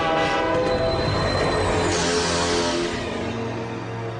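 A cartoon express train arrives, its horn sounding loudly over a rumbling, rattling rail roar that slowly fades a little as it pulls in, with no voices heard.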